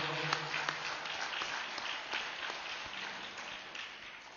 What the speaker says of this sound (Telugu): వాళ్ళకి గట్టిగా చప్పట్లు కొడదాం